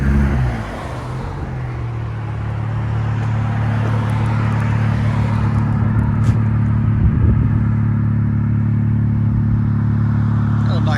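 A 2022 Dodge Charger GT with a 3.6L V6 and Magnaflow Magnapacks exhaust idles steadily, a low, even rumble heard up close and continuous.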